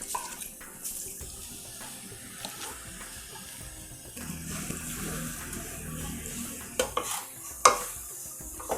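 Ground paste goes into a pan on low heat and is stirred as it fries, giving a soft sizzle with scraping and stirring sounds and a few sharp knocks of the utensil against the pan, all at a quiet level.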